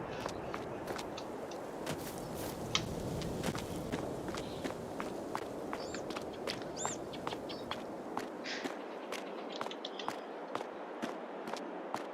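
Quick, steady running footsteps of a character in Farming Simulator 22 thud along at an even pace over a soft outdoor ambience with occasional birds, close and continuous.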